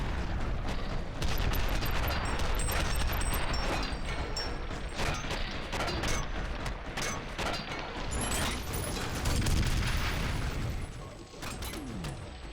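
Rapid, sustained gunfire in the shooter game F.E.A.R. Perseus Mandate: dense bursts of shots with mechanical clatter, loud and continuous for most of the stretch before briefly easing near the end.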